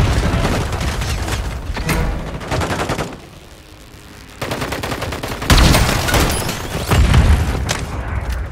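Repeated loud booming blasts with bursts of gunfire in Call of Duty combat, several heavy grenade explosions near the end with short quieter gaps between, no talking.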